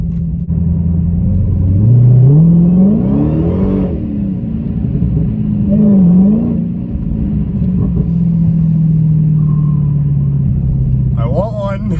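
2017 Dodge Challenger Hellcat V8 accelerating, a deep rumbling engine that surges in pitch and loudness through several rises, then settles into a steady cruise drone before a brief revving burst.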